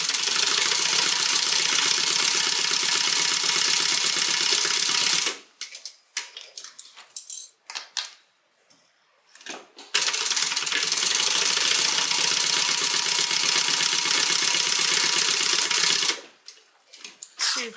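A sewing machine stitches a quarter-inch seam on a crossbody bag in two long steady runs, close and loud, separated by a pause filled with clicks and handling noise, then a final short burst.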